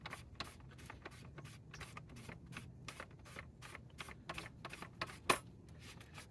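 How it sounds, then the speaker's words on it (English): A part is screwed into a restored 1964 Fuji Motors Go Devil folding mini bike, making a quiet, regular series of short scraping clicks with one sharper knock near the end. "This part just screws in."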